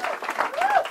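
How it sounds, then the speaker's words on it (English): An audience at an escape artist stage show briefly applauds two volunteers returning to their seats, with the clapping partly covered by a voice speaking over it. "Let's give John and Jesse a big round of applause"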